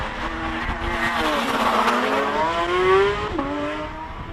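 A two-litre 16-valve all-wheel-drive Mitsubishi Evolution race car climbs a hill-climb course, its engine note rising and shifting through gears, loud and fairly close, with a brief tire squeal and no talk.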